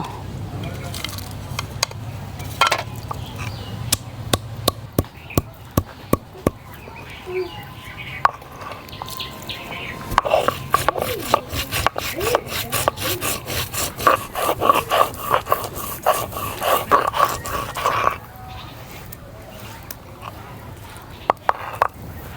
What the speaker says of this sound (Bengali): এবার মাংস রান্না করার জন্য কিছু মশলা বেটে নেব।